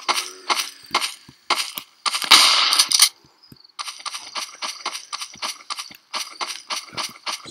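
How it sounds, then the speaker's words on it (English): Footsteps pounding on wood in the ZombieCraft io browser game, a rapid run of sharp thuds with a short burst of noise and a brief pause before the steady rhythmic knocks return. "a lot of times when I stop running, it sounds like something's pounding on wood."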